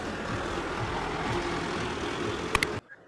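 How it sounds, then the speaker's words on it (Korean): Traffic on a busy, noisy downtown street, a continuous rumble of cars and trucks nearby with a couple of short sharp beeps near the end before it cuts off. "음악 소리, 차 소리가 들리는 시끄러운 환경 소리입니다."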